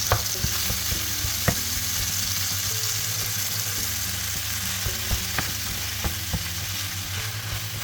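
One kilogram of beef mince frying in oil in a pan, a dense close sizzle with repeated sharp scrapes and taps of a utensil breaking up the meat.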